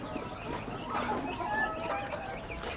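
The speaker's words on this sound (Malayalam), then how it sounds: "പുള്ളിക്കോഴിയുടെ അല്ലേ? തനി നാടൻ കോഴികൾ." Native spotted country chickens on a poultry farm cluck softly and intermittently, fairly quiet and close by with no talk over them.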